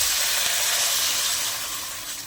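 Water poured into hot spiced oil sets off a loud, steady hiss of sizzling and steam that fades slightly toward the end, close up with no talking.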